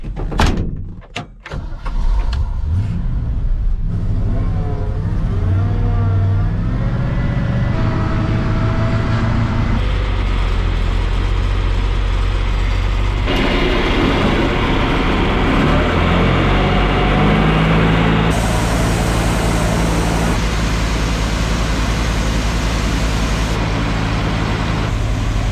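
A blue tandem grain truck unloads on a farm during harvest, its engine rumbling steadily and loudly throughout after a few sharp knocks at the start.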